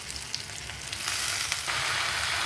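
Mint leaves sautéing with grated coconut in a pan for mint coconut chutney, a steady broad sizzle that thickens and grows louder partway through, with no voices over it.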